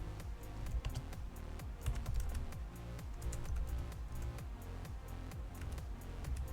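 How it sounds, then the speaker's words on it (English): Keyboard typing in a video game, a rapid irregular run of clicky keystrokes set against driving, intense music, the taps crisp and close throughout. "was it just typing?"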